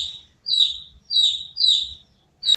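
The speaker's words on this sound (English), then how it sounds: "What does the chick say?" A baby chick chirps in four short, bright bursts with brief pauses between them, clear and close with no talking.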